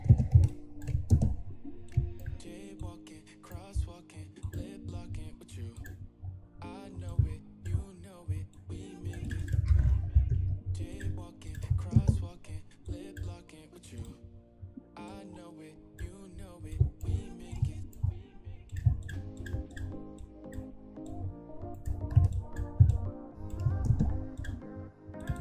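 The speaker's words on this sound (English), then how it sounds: "I'm going to type a random name here" Typing on a computer keyboard in irregular bursts of close, crisp key clicks, with a few pauses between runs and a voice talking over the keystrokes.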